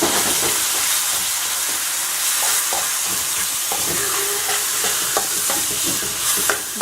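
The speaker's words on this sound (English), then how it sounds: "next I'm going to fry off our meat" Chicken, pork and prawns fry in a very hot wok, with a loud constant sizzle broken by repeated clanks and scrapes of stirring throughout.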